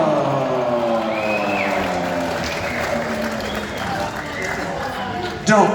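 Concert crowd at a show at the Riviera Theatre, North Tonawanda, NY, breaking into sustained applause with scattered cheers and whoops, a dense steady wash of clapping across the room with voices mixed in.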